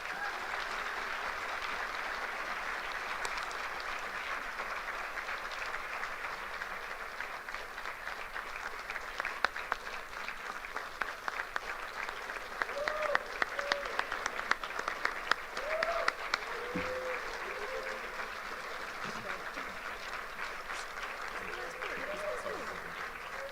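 Sustained audience applause after a keynote address at an MLK event, steady and broad throughout, with a few faint voices briefly rising over the clapping near the middle.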